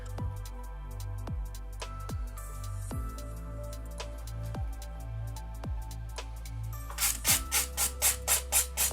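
A 120 grit nail file working over sculpted nails, quick rhythmic rasping strokes, close and quiet, with a faster run of sharper strokes near the end.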